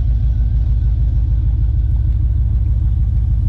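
Deep, throaty rumble of a lowered GMC Sierra pickup with a new Speed Engineering catback exhaust idling nearby, steady and loud with a low pulsing exhaust note.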